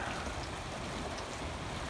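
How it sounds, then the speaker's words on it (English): Light rain falls steadily outdoors over a smouldering fire of burned old lumber and cut-up dead trees, making a soft, even hiss with no pauses. It is fairly faint, and no voice is heard. "it's only raining a light rain right now"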